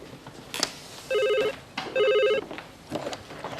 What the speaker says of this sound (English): Clem Underwood on the phone